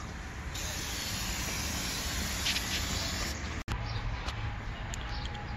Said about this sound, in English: All right, so I'll be spraying it right here.